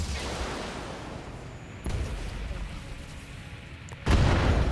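Mech weapons in the BattleTech video game fire in a few heavy booming bursts, one at the start, another near the middle and a louder blast at the end, over a dense rumbling battle background.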